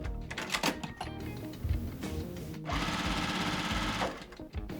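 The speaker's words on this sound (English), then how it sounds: "Right sides together, I'm going to sew all the way down" Sewing machine stitching a seam down a quilt block made of jelly roll pieces, a quick mechanical rattle that starts, stops, and runs in short bursts up close.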